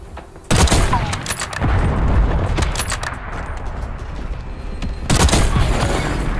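Gunfire in a first-person shooter game, a sniper rifle shot fired while riding a zipline, with loud sharp bursts at the start and again near the end over a steady rumbling game ambience.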